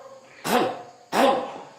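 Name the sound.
throat clearing from the belly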